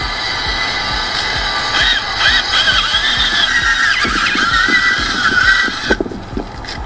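A reciprocating saw buzzes and whines close up with a harsh, wavering tone and rapid rhythmic strokes, cutting steadily through a roof for an attic fan before stopping near the end.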